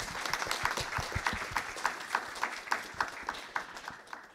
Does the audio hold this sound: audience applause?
yes